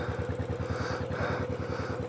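A Royal Enfield Classic 500 EFI motorcycle engine thumps steadily while riding, a loud close single-cylinder chug with even rhythmic pulses throughout.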